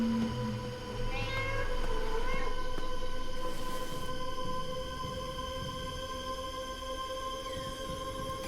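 Cat meowing in the FNAF: Into The Pit video game: a couple of clear meows near the start, followed by a steady humming game ambience with no talk.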